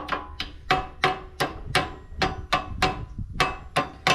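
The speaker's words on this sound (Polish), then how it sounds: "Do takich zawleczek taki młot." A heavy hammer strikes metal pins in a steady series of about ten sharp, loud blows at an even rhythm, close and alone without talk.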